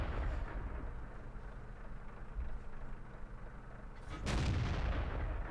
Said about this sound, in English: As you can see, quite a rapid firing gun.